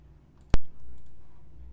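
A single sharp mouse click on a Submit button while filling in a download form on a Linux computer, one crisp isolated tap followed by faint room hum.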